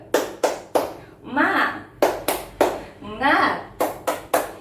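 Fifth-grade children in a classroom doing a rhythmic clapping chant, crisp groups of three sharp claps alternating with shouted chanted words, repeated twice in a tight pattern.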